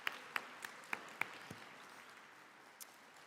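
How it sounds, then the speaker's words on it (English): An audience at a health and wellbeing awards event gives a thin, faint round of applause: a few scattered soft claps early on that trail off into quiet room noise. "So I'm going to lead a round of applause for you"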